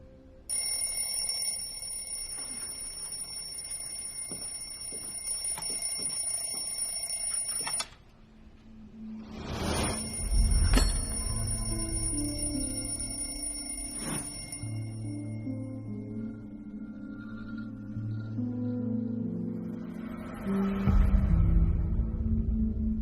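An alarm clock rings with a bright, continuous metallic trill for several seconds, then stops as lower tonal sounds and rustling follow.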